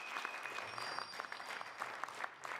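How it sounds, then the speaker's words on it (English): Scattered applause from a small crowd greets the end of a piano piece in the video game Cradle of Nightmare, with soft, steady clapping at moderate distance and faint tonal hums behind. "the clapping just happens at the end of the piano piece"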